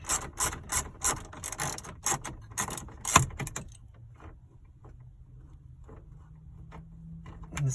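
Ratchet removing a bolt from the instrument cluster of a GMC, Escalade, Yukon or Avalanche: rapid close clicking bursts for about three seconds, then a quiet room with faint scattered clicks.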